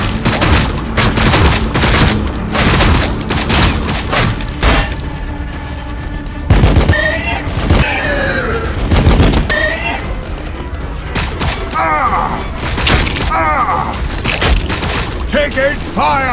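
Dense gunfire rattles through a Warhammer 40,000: Battlesector battle at the Gates of Kemrender, with repeated bursts and booming impacts sounding nearly continuously over the full stretch, while voices speak over the loud fusillade.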